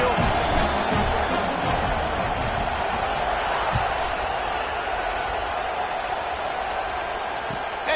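A large football stadium crowd roars in a steady distant wash of cheering and murmur, holding a constant level without sharp peaks.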